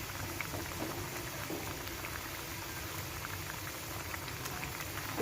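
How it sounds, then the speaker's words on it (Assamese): A pot of fish curry with pumpkin, tomato and potatoes bubbles and simmers steadily at an even, moderate volume, its dense crackle close by with no voices. "এইখিনি উতল আহিছে"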